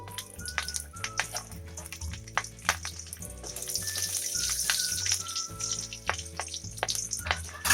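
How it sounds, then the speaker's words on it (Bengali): Bay leaf, a pinch of five-spice and four or five slit green chillies sizzle and crackle in hot oil for a vegetarian pumpkin greens dish, a steady close frying hiss with sharp pops, over soft background music. "এবার ওই তেলের মধ্যে আমি একটা তেজপাতা দিয়ে দিলাম, 5 ফোড়ন দিয়ে দিলাম অল্প, কাঁচা লঙ্কা চিড়ে 4-5টা দিয়ে দিলাম"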